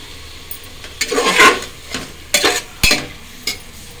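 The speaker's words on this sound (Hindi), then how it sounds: "अच्छे से भूनेंगे। फिर डालेंगे इसमें कसूरी मेथी।" Potato curry fries in a pan and is stirred, a low sizzle broken by several loud scraping strokes of a spoon against the pan, close and irregular, with no speech.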